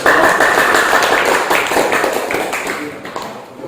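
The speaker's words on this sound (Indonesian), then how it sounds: "Kalau tidak ada, berarti kita berikan tepuk tangan untuk." A classroom of students applauds a group, with loud, fast, overlapping hand claps that fade slightly toward the end.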